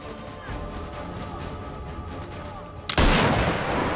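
In the Sniper Elite VR game, a sniper shot sets off an explosive: quiet ambience with faint voice-like sounds gives way to one sudden, loud, sharp blast that leaves a lingering rumbling roar.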